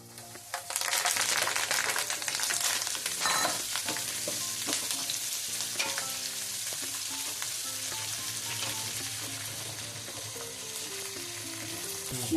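Curry leaves and asafoetida fry in hot oil, a steady loud sizzle and crackle with stirring clinks, continuous from the first second onward with no talking.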